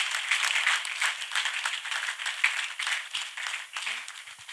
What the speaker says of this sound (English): Can you clap hands for our Master Jesus?